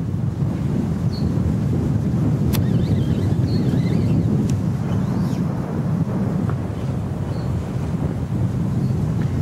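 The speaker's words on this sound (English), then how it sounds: "the wind seems to be blowing right into his little area" Steady wind buffets the microphone at a lake during a bass fishing tournament, a continuous low rumble throughout with faint scattered background sounds.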